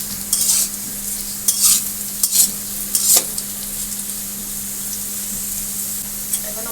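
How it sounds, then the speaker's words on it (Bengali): Potatoes frying in oil and stirred in a pan, with a steady background sizzle and several short, sharp scraping bursts from the stirring, close and fairly loud, with no voices. "এখন আমি আলুগুলি একদম ব্রাউন করে ভেজে নেব"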